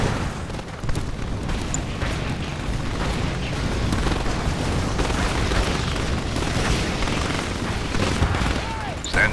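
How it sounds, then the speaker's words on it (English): Bombing run in a Dune strategy game, a dense run of rumbling booms and blasts rolling on for several seconds, loud and continuous, with faint voice chatter in places. "Stand by for bombing run."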